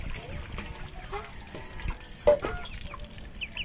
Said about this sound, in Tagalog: magpapalit po ako ng tubig mga kaubayan